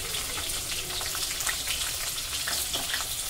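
Green chillies drop into hot oil with cumin and sizzle loudly, a steady, close frying hiss with crackling bursts and no voices.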